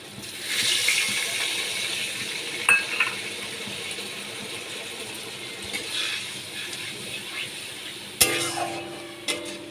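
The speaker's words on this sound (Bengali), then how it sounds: "এক বাটি জল আমি দিয়ে দিচ্ছি" A bowl of water poured into a hot cooking pan while making aloo posto, a rushing, hissing pour that fades to a low simmer, with a sharp clank near the end.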